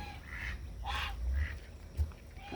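Geese and ducks on a small farm: a few scattered honks and quacks over a low, muffled background rumble, faint and at a moderate distance, with no talking.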